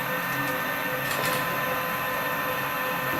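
CNC machine under Mach 3 control driving along an axis, a steady close motor whine and hum with a slight change in tone midway, no talking.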